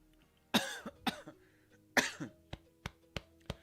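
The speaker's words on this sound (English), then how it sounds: "except for this coughing" Three harsh, raspy coughs burst out close by, each trailing off, followed by several short sharp clicks or taps in a steady row.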